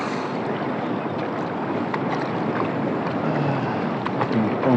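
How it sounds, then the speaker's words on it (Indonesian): Large sea waves churning around a fishing kayak at sea, a steady rushing wash of water with wind buffeting the microphone, continuous and close. "Ombaknya cukup besar ini."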